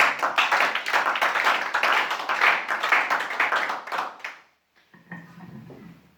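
A church congregation claps in acclaim of Jesus, a dense, lively wave of hand claps lasting a few seconds before it stops abruptly, followed by faint murmuring.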